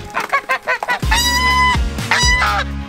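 Several loud, close goose honks, a few short calls followed by long blaring ones in overlapping bursts.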